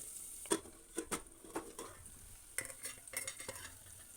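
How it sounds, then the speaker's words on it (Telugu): Onions frying in a pan for a goat head curry, with a few brisk stirring scrapes and soft sizzling spread across several seconds, close and fairly quiet with no talk. "ఉల్లిగడ్డలు ఎక్కువ ఉంటేనే కొంచెం గ్రేవీ వస్తుంది, గ్రేవీ రావడానికి పెద్ద ఒక చిటికెడు, ఎందుకంటే ఉల్లిగడ్డలు తొందరగా ఫ్రై అవుతాయి."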